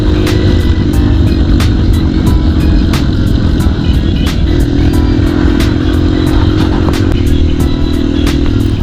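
Enduro motorcycle engines drone loudly and steadily on a dusty forest trail in the hills behind a reservoir in Phrae, Thailand, with close, constant engine noise and sharp clattering ticks from the bike recurring throughout.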